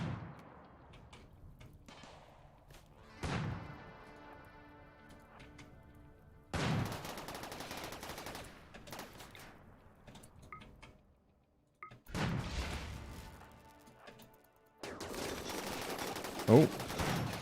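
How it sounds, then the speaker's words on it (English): Uranium slug turret firing in RimWorld, heavy booming shots that ring out and decay, with several loud bursts spaced a few seconds apart amid other battle noise. "The uranium slug turret is earning its keep."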